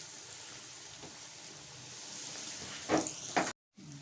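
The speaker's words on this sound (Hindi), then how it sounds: "उसी तरीके से करेंगे फ्राई" Chicken mayo bread patties fry in hot oil with a soft, continuous sizzle, broken near the end by two louder crackling bursts and a brief moment of silence.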